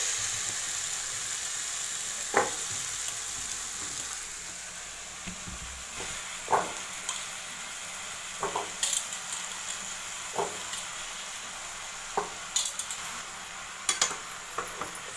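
Drumsticks are stirred into masala in a pan, a soft steady sizzle broken by repeated sharp scrapes and clacks of a utensil against the pan, with no talking.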